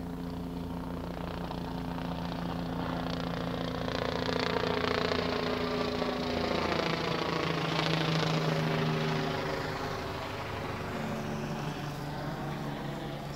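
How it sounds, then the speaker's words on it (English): A JDF military helicopter passes over a coastal construction site on Port Royal Street, its steady rotor and engine drone swelling loud overhead mid-clip and then easing off, with no talk. "the JDF helicopter is coming back"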